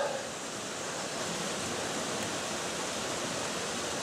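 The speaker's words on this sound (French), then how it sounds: "j'ai aperçu la cascade entre les arbres là." A forest waterfall on a hiking trail near Gérardmer in the Vosges makes a steady, even rush that is heard from some distance and stays moderately quiet throughout.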